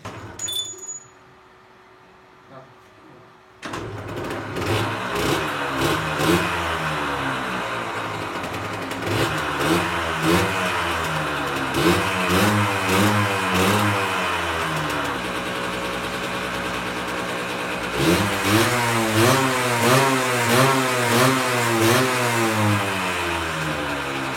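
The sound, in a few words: Derbi motorcycle engine starting and exhaust revving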